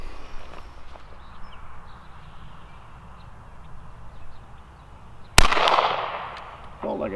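A Henry Model X rifle fires a single sharp, loud .38 Special shot outdoors at a 50-yard range, following several seconds of quiet ambient noise and light movement.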